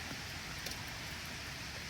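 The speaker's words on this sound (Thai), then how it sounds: "วันนี้ศุกร์จริงศุกร์จังค่ะพี่น้องค่ะโอ้ ย กับบรรยากาศหนาวๆฝนตกตก ท้องฟ้ามืดขึ้น" Rain falls steadily on a cold, dark day, a soft, even hiss of drops that stays constant and faint throughout with no voices.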